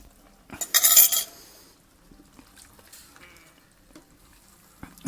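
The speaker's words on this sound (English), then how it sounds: "And now I'm going to pour this beef stock" Beef stock poured into a hot frying pan gives a brief loud sizzling hiss that fades quickly, followed by quiet scraping and soft clinks of utensils against the pan.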